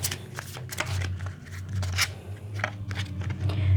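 A deck of tarot cards being shuffled by hand, with repeated crisp riffling bursts and soft flicks at close range in a quiet room.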